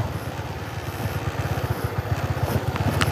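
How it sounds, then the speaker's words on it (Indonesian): Motorcycle engine puttering steadily as it rides into a waterfall area on a rough path, a low rhythmic chug that stays fairly close and continuous. "Ini ternyata motornya bisa masuk."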